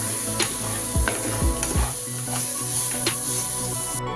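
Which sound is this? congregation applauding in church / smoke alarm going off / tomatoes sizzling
tomatoes sizzling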